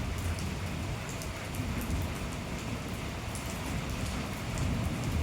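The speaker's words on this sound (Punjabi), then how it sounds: "ਦੇਖੋ ਕਣੀਆਂ ਡਿੱਗਦੀਆਂ ਨੇ" Steady rain falls continuously, a dense hiss of drops pattering on surfaces, even and unbroken throughout with no voices.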